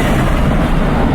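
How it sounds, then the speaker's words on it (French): Turbo dump valves on a 1,500-horsepower Bugatti Chiron vent in a loud, close, brief burst of rushing, booming rumble. "C'est les dump valves."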